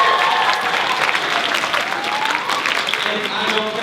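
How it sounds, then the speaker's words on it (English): Round of applause from an audience at a school Poetry Out Loud event, steady dense clapping held at an even loudness for the whole stretch, with faint voices mixed in underneath. "give yourselves a round of applause"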